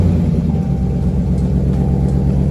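A Dodge Charger R/T engine cold-starting, a loud, steady low rumble with slightly rough idle held throughout, close by and alone with no talk.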